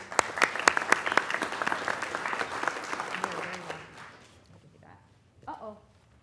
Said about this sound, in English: So you get double claps for stepping in at the last minute.